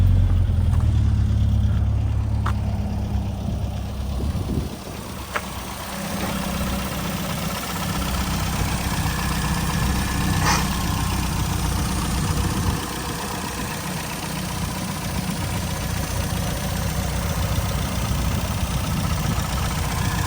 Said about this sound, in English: Very smooth, just a solid, good running Mini.